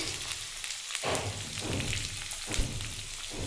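Onion frying in a pan while cooking a masoor dal, okra and katla fish dish: a steady, soft crackling sizzle with fine popping, continuous throughout at moderate distance, no talking.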